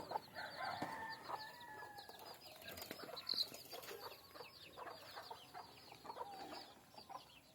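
Chickens cluck and chirp faintly in the distance, scattered calls rising and falling over quiet farmyard ambience.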